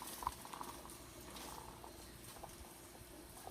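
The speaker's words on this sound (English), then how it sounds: "So now that your pot of water is boiling" Pot of water at a boil with diced potatoes and chopped carrots, a soft steady bubbling and patter of liquid heard up close, with faint clicks scattered throughout and no talk.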